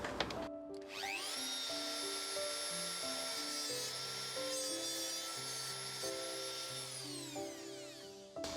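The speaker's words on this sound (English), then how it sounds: "the first thing I'm going to do is trim both the rails to the same length in this corner" A small rotary cutting tool trims the rails of model railway track, a sustained high whine held for several seconds, with its pitch rising at the start and falling away at the end, alongside lower buzzing tones and a faint grinding rasp.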